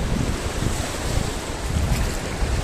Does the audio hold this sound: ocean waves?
yes